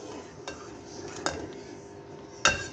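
A spoon stirs sugar and cardamom in a pot for sweet potato kheer, with three sharp metallic clinks against the pot spaced apart over a soft, quiet background.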